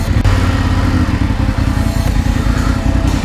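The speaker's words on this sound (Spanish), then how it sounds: "Vamos a guardar la moto aquí." A motorcycle rumbles loud and close, its engine pulsing steadily as it rolls in to be parked in a village during a solo ride from Madrid toward Dakar.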